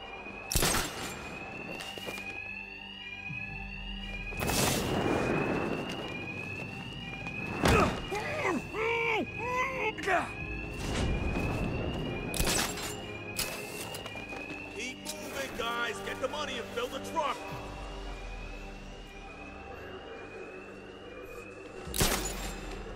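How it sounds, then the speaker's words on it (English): Alarm blaring through a building in the Batman: Arkham Knight video game, a repeating electronic pattern running throughout alongside loud game combat hits, footsteps and musical score, with intermittent speech. "these thugs can't hear a thing over the alarm"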